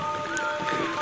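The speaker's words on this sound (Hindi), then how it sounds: "अभी बारिश हल्की हल्की ज़्यादा नहीं हुई" Light monsoon rain falls on a hillside near a village in Uttarakhand, a steady soft patter that is faint and continuous with nothing else over it.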